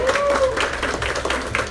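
Applause from a gathered crowd at the opening ceremony of a Supersol petrol station in Ponta Porã, steady broadband clapping over about two seconds, fairly loud, with a faint whistle-like tone near the start.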